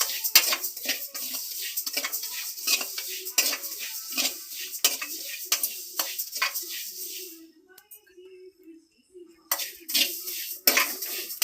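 Whole spices dry-roasting in a pan for homemade masala powder, with repeated close scrapes and clinks of a spatula against the metal, a brief quieter stretch partway through, then more stirring.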